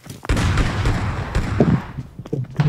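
A sniper rifle shot in PUBG, a single loud booming crack up close followed by a short rumbling echo and a few smaller impacts.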